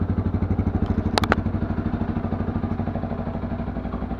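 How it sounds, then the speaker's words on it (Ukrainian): A 2022 Tekken 250 motorcycle engine idles close by with a fast, even putter, pulsing steadily throughout, with a couple of sharp clicks near the start. "мотоцикл працює стійко"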